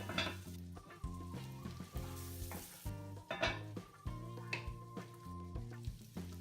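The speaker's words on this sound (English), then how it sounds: "Fry the onions for 5 minutes, partially covered until golden." Onions fry in a pan over medium heat, giving a steady sizzle beneath prominent melodic background music throughout.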